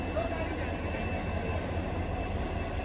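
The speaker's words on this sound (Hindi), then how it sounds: "यहाँ देखिए खूबसूरत सा डीजल लोकोमोटिव" Steady rolling rumble of a Duronto Express train hauled by a WDP4D diesel locomotive on the New Delhi to Bhubaneswar run, a dense continuous roar with a faint high tone above it and some voices under the noise.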